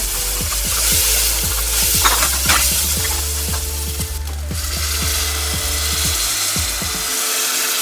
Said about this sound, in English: So once you have added in the blended tomatoes, just give it a nice mix.